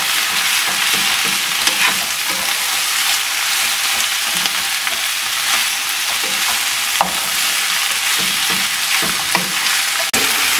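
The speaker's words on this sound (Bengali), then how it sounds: "শাকটাকে আমি নেড়ে নিচ্ছি এখন।" Fresh red spinach with salt is stirred in a hot pan, a continuous loud sizzle under frequent scraping and clacking from the spatula against the pan, with no one talking.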